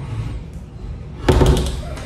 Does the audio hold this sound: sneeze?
no